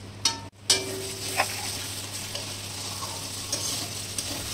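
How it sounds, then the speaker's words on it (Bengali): Masala with tomatoes for aloo chana masala stirred as it fries in a pan, a steady close sizzle broken by a couple of sharp scraping strokes near the start and soft occasional clinks after. "আমি তাও আর একটু নাড়াচাড়া করে নেব"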